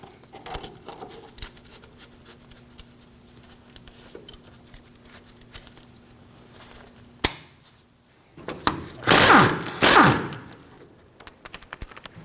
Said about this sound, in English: I'm going to use a set of locking pliers to hold the inner tie rod while I remove the jam nut